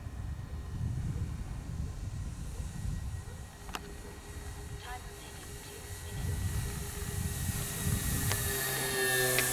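An Eachine Airloader twin-motor RC plane makes a low, slow pass with full flaps, its electric motors a faint steady whine over wind and outdoor noise, growing slightly louder toward the end.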